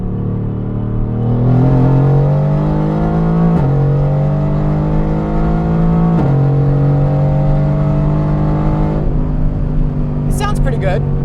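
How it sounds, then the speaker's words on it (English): A supercar fitted with downpipes revs hard, its loud, throaty exhaust rising and falling through several pulls with a deep muscle-car growl, close by and continuous, ending with a brief clatter. "I had to put the downpipe on it, and I mean, this car sounds more like a muscle car"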